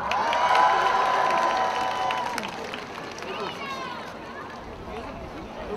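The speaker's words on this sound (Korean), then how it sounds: "박수 한번 줄래?" A concert crowd cheers and applauds, with loud, dense shouting and clapping that swell early and then ease into a steadier, softer roar.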